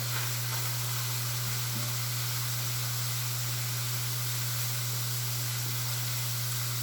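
Steak cooking in a hot pan, a continuous even sizzle heard up close over a steady low electrical hum, no talk.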